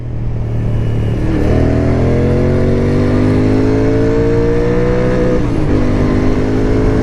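A new motorbike's engine drones steadily while riding, its pitch climbing smoothly through a long pull, briefly dipping at a gear change and rising again, loud and close with wind rush and no talk.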